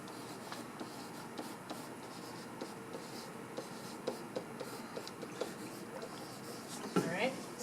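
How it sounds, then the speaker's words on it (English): Marker or chalk writing on a classroom board during a surface area math lesson, a steady run of short scratchy strokes at moderate distance, with a brief louder burst of squeaks near the end. "so I'll write it over here"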